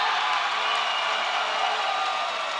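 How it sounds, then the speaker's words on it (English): Crowd at a men's college volleyball game between St. Clair Saints and Humber Hawks, a brief loud burst of cheering and whooping after a missed serve. "The crowd erupts"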